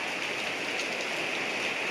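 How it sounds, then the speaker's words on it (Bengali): Heavy rain falls in Malaysia as a dense, steady roar of water, close and loud, unbroken for the full two seconds with no voices. "প্রচুর বৃষ্টি হইতেছে।"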